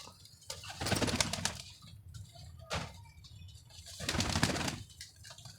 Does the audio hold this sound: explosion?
no